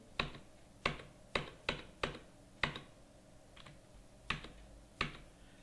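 Computer keyboard used for data entry in Tally Prime accounting software: about nine separate, crisp key presses at an uneven pace, close and fairly quiet, with no talking.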